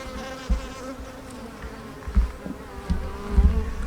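Honeybees buzz steadily at an opened hive in spring after four months unchecked, a dense continuous drone with a few soft knocks and bumps of handling underneath.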